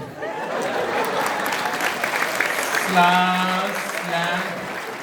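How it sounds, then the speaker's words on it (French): Crowd applause at a comedy festival show, a dense, sustained wash of clapping throughout, with a voice breaking in over it partway through. "tu vas applaudir le personnage, et là vas-y, applaudis"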